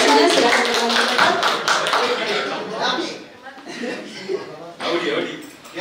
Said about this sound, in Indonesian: tepuk tangan untuk beberapa kandidat yang sudah menyatakan visi-misinya